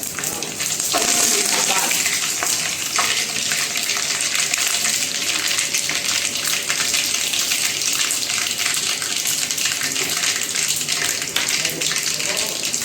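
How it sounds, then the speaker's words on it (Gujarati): Whole spices (cinnamon, cloves, star anise, mustard seeds, cumin and bay leaf) sizzle in hot oil for a tempered rice dish with dried pigeon peas, a steady, loud hiss that runs unbroken throughout. "હવે આપણે થોડાક આખા મસાલા નાખશું તજ લવિંગ બાદિયા રાઈ જીરું તમાલપત્ર એ નાખશું"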